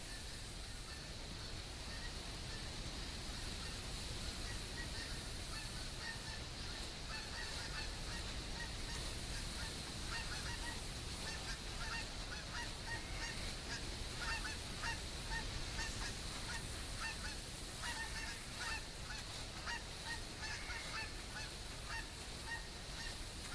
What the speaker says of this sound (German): Ja, Gänse.